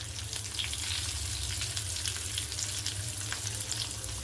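Cumin, curry leaves and crushed garlic fry in hot oil, a continuous close sizzle with scattered crackling spits over a low steady hum, and no one speaks.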